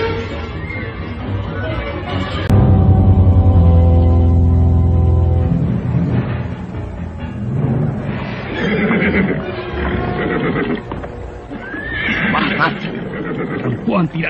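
A horse whinnies loudly in a dramatized scene, a long harmonic neigh breaking out early and fading, followed by scuffling and a narrator's voice continuing over the action.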